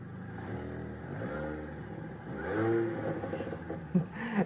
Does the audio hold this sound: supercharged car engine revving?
yes